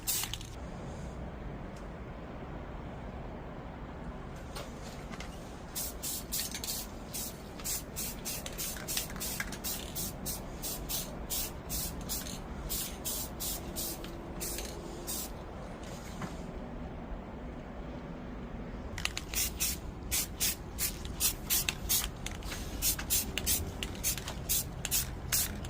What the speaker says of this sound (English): Spraying these springs.